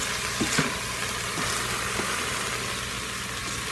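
Chili ingredients get stirred together in a pot for a crockpot chili, a dense hissing rush with a few soft knocks and scrapes near the start.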